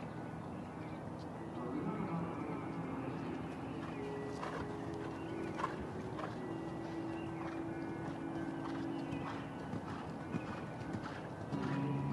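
Soft, rhythmic hoofbeats of a horse in medium canter during a dressage test sound faintly beneath steady background hum and a commentator's voice.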